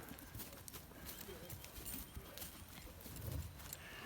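Horse hooves clip-clop at a walking pace on the ground during a Western horse show, steady irregular thuds heard fairly close over a broad background wash.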